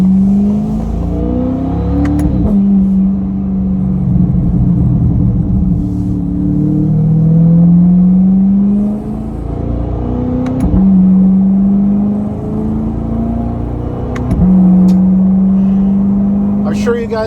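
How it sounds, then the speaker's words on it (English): A Chevrolet C8 Corvette fitted with sport cats and a Fabspeed Valvetronic exhaust revs repeatedly up close, each deep rising pull ending in a sharp drop back to a rumbling idle, several times over, with someone talking during parts of it. "the Sport Cats and the Fabspeed Valvetronic exhaust puts this thing over the top. This thing sounds incredible, whether you're idling,"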